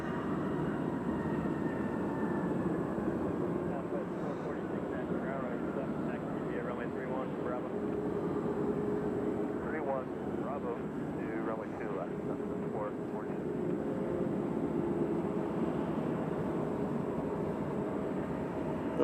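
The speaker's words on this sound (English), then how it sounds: "we got Sun Country landing on the center, coming in from Des Moines" A Sun Country airliner landing at Nashville International Airport, arriving from Des Moines, heard as a steady, fairly faint distant jet roar that rises and falls through the whole stretch, with voices talking over it.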